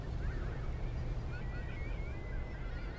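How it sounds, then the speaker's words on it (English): In the fishing game Fishing: North Atlantic, seabirds give wavering honking calls at sea over a constant low rumble of boat and water, moderately distant and faint. "Any birds? I hear birds."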